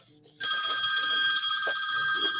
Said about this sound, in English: Let me get the phone here.